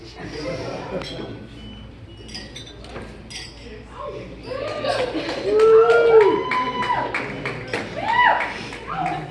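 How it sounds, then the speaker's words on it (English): Glasses clink in a wedding toast, with scattered light chinks and taps rising over a murmuring crowd and cheering voices, loudest toward the end. "I would like to raise our glasses to the happy couple"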